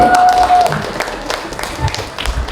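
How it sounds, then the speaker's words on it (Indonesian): Applause from an audience at a deep-learning talk show, a brief burst of clapping that is strongest at first and then thins out, while a voice talks over it. "Beri tepuk tangan sekali lagi Bapak Ibu"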